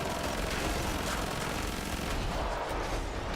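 Sustained, dense gunfire in the video game Killing Floor 2, a loud unbroken barrage of rapid shots filling the whole stretch with no pauses.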